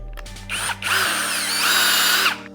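Vitals Professional cordless drill/driver rated at 40 newton-metres, shown here drilling a hole: a loud, close, high motor whine that rises, dips briefly and then holds steady under load before stopping abruptly after about two seconds.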